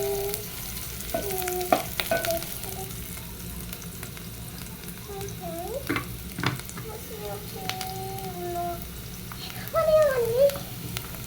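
Onions fry for githeri in a pan with a soft, constant sizzle and occasional stirring, close and low, while someone talks intermittently over the cooking.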